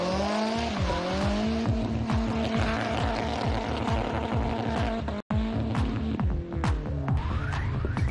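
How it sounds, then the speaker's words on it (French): A Nissan S14 drifts hard, its engine revving loudly and continuously with rising and falling pitch while the tires squeal through the slide, alone without talk. "Puis la vedette est une Nissan S14 qui réalise un bon dérapage."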